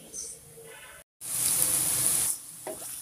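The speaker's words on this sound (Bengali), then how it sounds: "তেল দিয়ে দিলাম, পেস্ট একটু ভাজা ভাজা করে নিই" Spice paste hitting hot oil in a home kitchen pan, a short burst of loud close sizzling after a brief gap, with soft handling noises before and after.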